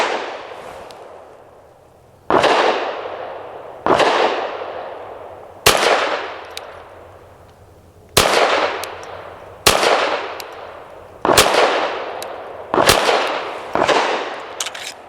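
A Hammerli Forge H1 .22 pistol fires Federal Game Shock rounds, nine sharp loud cracks spaced about one to two seconds apart, each ringing out briefly before the next, with no talking.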